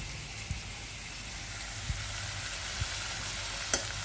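Potato and carrot pieces fry in a pan while being stirred: a soft, steady sizzle with a few faint taps of the spoon against the pan.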